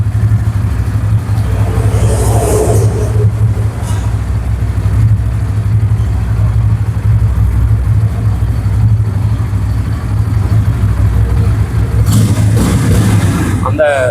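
A Bajaj Pulsar N160 motorcycle engine runs close by with a loud, steady low rumble and slight shifts in its pitch.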